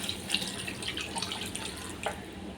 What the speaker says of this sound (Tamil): இப்போ தண்ணி கொஞ்சம் சேர்த்துக்கலாங்க.